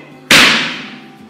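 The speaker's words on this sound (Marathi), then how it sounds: "कोयत्याचा जो मागचा भाग असतो त्यांनी असं मारलं की नारळ आपला फुटतो" A whole coconut is split with one sharp blow from the back of a sickle, a single loud close crack that rings briefly and fades within a second.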